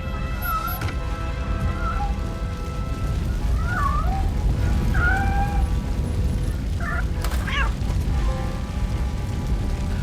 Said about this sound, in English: A real hero save a cat from a burning hotel.